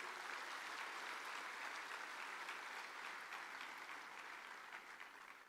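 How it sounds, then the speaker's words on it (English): An audience at a university convocation applauds the graduates, steady dense clapping that stays even for several seconds before tapering off slightly at the end; fairly quiet overall. "So I request the entire audience to applaud and appreciate all the graduates of today."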